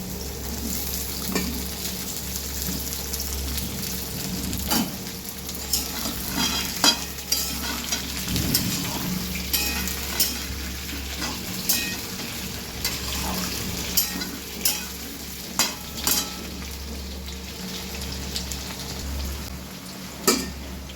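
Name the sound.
pointed gourd and potato frying in a pan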